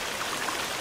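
Steady broadband rush of a river flowing in the survival game The Forest, a continuous watery hiss with no breaks, moderately loud and alone.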